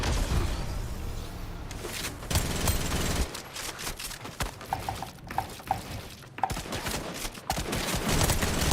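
Rapid gunfire from the first-person shooter game Unreal, with repeated shots and bursts over a dense, busy game soundscape, loud and continuous with sharp transient spikes.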